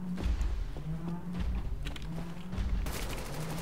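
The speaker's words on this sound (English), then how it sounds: "you shoot it in the eye and then you blow up its cannons" Gunfire and heavy weapon blasts in the shooter game Wolfenstein: The New Order, with a few booming thuds and bursts of shots over a droning score, ending in a loud, sustained blast.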